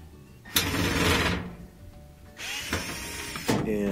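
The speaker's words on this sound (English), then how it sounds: "I'll use my Phillips head screwdriver to remove the two screws that hold on the lid switch." A Phillips screwdriver backs out screws from the lid switch of a GE laundry center washer, with close, scraping, ratchet-like mechanical bursts separated by brief quieter handling.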